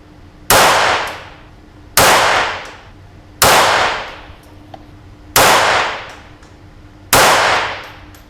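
Five sharp, evenly spaced shots ring out from a .22LR match rifle firing Eley Tenex ammunition, each crack loud and close with a short decaying tail, about a second and a half apart.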